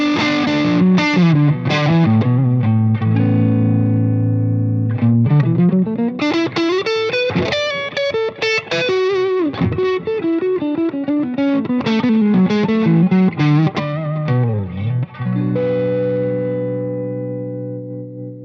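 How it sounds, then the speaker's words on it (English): An electric guitar through an amp rig with mild overdrive plays a continuous, loud riff-and-lead phrase of chords and sliding single notes, slightly gritty, with no talking. "let's try some mild overdrive"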